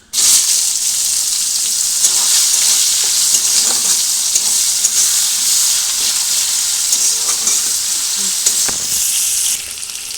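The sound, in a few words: chopped onions frying in spiced oil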